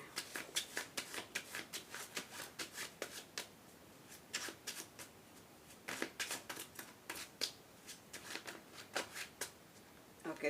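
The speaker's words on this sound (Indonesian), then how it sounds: "kartunya sulit sekali ya untuk di shuffle" Tarot cards being shuffled by hand, a steady run of quick riffling bursts and soft slaps repeating close up for several seconds with no talk.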